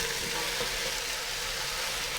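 Beef hits a hot pot over high flame and sizzles loudly and steadily, a dense, close hiss with no voices.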